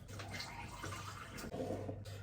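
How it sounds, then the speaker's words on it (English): Water poured from a tap into a shaker holding creatine, a faint, close splashing stream that runs briefly, breaks off, then resumes. "Then put some water in here."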